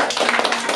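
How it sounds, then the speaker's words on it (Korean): Brief burst of clapping from a lecture audience after a training talk, dense and close, lasting under a second. "우리 이제 강의해 주신 강사님한테 한번 박수 한번 더 주세요."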